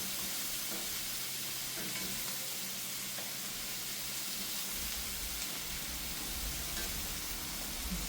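Seasonings for Jamaican curry fish frying in a pot, a dense, steady hissing sizzle throughout with occasional stirring, close and continuous with no voices.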